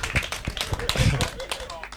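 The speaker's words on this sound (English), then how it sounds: "Let's clap for Toby." People at an association annual general meeting clap for an unopposed official. Scattered, uneven handclaps sound close by, mixed with talk and a few sharp taps.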